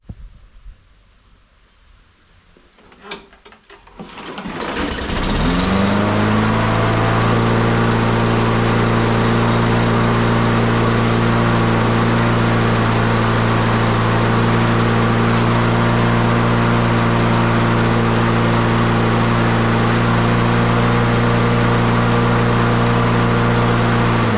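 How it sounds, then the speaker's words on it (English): A Craftsman M110 lawn mower with a 140cc Briggs & Stratton engine is pulled and fires up after a few seconds, then runs at a loud, steady, close-up drone for the rest of the time. "so she fired up and runs good now"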